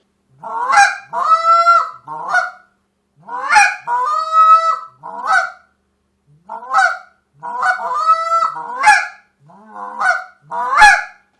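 Short reed honker call imitating Canada geese, running loud, close sequences of honks, moans and quick clucks in uneven groups with short pauses, no voices.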